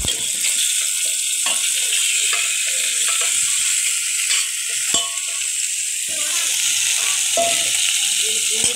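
Food for Bisaya humba sizzles steadily as it fries golden brown in a pan, a dense, continuous crackle with occasional clinks and scrapes from stirring, fairly close and with no talk over it.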